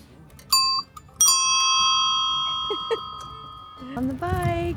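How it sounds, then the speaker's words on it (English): A small bicycle bell rings twice, first a short ding and then a clear ring that lingers and slowly decays, close and bright, before a voice starts speaking at the end. "Bicycle. Look, we even have a little bell."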